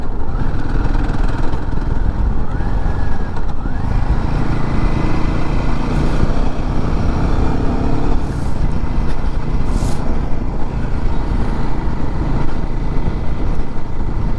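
Royal Enfield Himalayan 452 motorcycle with a 452 cc liquid-cooled engine runs steadily and loudly close by, a constant rough engine drone throughout.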